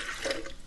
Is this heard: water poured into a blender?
yes